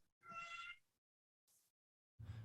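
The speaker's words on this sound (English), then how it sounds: "Is that a cat I just heard?" A cat meows once, clear and fairly close, in a quiet Thai setting, followed by a brief soft noise and then another louder, lower sound at the end.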